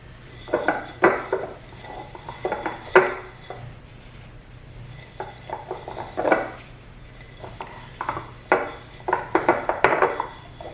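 Pine needles crammed tightly by hand into a wide-mouth glass mason jar, producing irregular bursts of crunchy rustling and glassy clinks separated by short pauses, close up with no talking.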